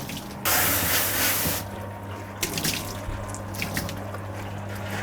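Running water sprays and splashes while soap is rinsed off a dog at a dog wash, a loud rush that starts abruptly, eases, then continues as an uneven spattering flow with small splashes.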